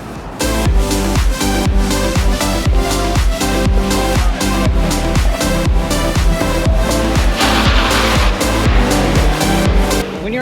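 A car launching and driving an autocross course, its engine loud and near, revving up and down in rapid repeated bursts as it accelerates and shifts, with tire noise throughout.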